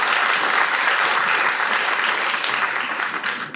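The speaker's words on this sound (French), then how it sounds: "qu'on les applaudisse particulièrement" An audience at a live podcast event at the Machine du Moulin Rouge breaks into dense, sustained applause, loud and continuous for a few seconds before tapering slightly.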